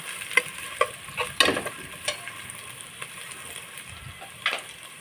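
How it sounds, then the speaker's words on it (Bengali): Masala with garlic paste and chopped onion sautéing in a pan, a soft steady sizzle broken by irregular scraping and stirring clicks from a utensil, with no talking. "রসুন বাটা আর দিয়ে দিব পেঁয়াজ কুচি দিয়ে মশলাটা আমি ভালোভাবে কষিয়ে নেব"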